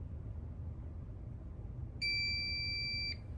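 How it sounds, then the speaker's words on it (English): A multimeter's continuity beep sounds steadily for about a second over low background rumble, starting and stopping abruptly. "Always have your alarm set up so that way you can hear whenever there's continuity."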